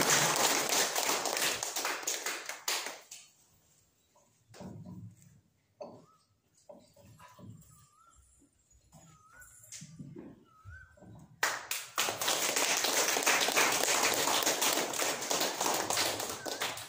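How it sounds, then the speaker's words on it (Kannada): Loud applause from a crowd at a school Environment Day celebration, a burst of clapping that stops for a stretch of quiet talk and then returns full and sustained. "ಜೋರಾಗಿ ಚಪ್ಪಾಳೆ ತಟ್ಟಿ ಈ ಒಂದು ಕಾರ್ಯಕ್ರಮ"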